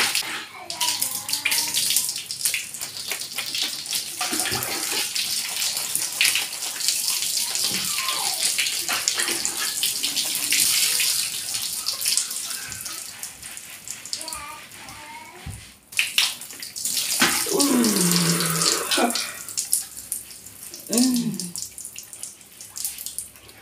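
Running water splashes continuously through long natural curly hair during a rinse, a close, uneven gushing with drips and shifting flow, while a person talks intermittently over it.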